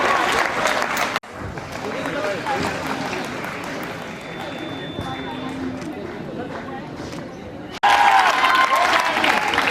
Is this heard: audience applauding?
yes